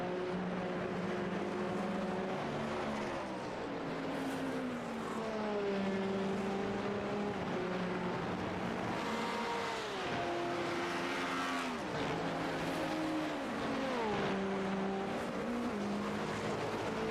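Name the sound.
race cars driving on track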